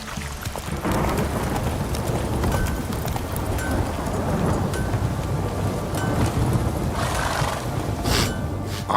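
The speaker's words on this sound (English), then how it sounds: "This downpour's a bastard" Steady heavy rain pours in The Witcher, a dense constant hiss and patter with low rumble beneath. It stays loud and unbroken throughout, with faint background sounds mixed in.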